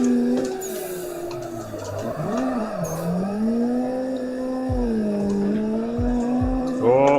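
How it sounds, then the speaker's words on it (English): Drift car in the racing game Assetto Corsa, with a steady engine drone whose pitch rises and falls through slides and a few short tire squeals, loud and continuous while someone talks over it. "little tire whap there"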